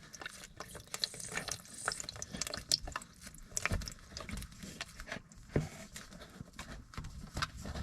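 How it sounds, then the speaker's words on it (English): Water gushes and splashes from a pipe as the bonnet of a leaky shut-off valve is cracked loose, a steady close-up rush with irregular drips and patter into a container, no talking. "You're gonna have water from in the pipe coming out."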